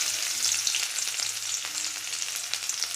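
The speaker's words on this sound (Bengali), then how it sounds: "পেঁয়াজটা হালকা করে ভেজে নেব" Chopped onion frying in hot oil with nigella seeds, a loud, continuous close sizzle with a faint low hum underneath and small stirring scrapes, no voices.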